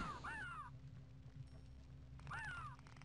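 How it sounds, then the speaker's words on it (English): Two raspy crow-like caws from a bird in the video game The Elder Scrolls: Daggerfall, one at the start and one near the end, separated by a quiet gap over a low steady hum. "Why do I hear a bird?"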